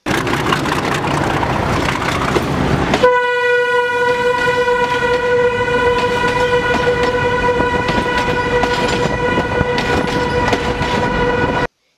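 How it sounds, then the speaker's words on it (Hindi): A train crossing an old British-era railway bridge at Chiniot, rumbling and clattering steadily before a long, loud horn blast sounds and holds over the continuing rolling noise, close and alone. "रेल हस्ब साबिक नीचे वाले पुल से ही गुजरती है"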